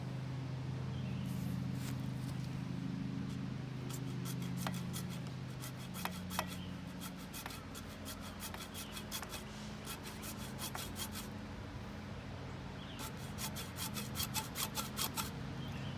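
A hacksaw cuts with rasping back-and-forth strokes that come in uneven bursts over a low background hum, fairly close and moderately quiet.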